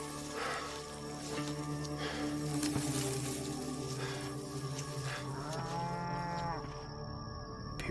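Cattle on a farm lowing, with a long, drawn-out moo rising and falling over continuous steady rain and background noise, moderately distant and fairly quiet, no voices.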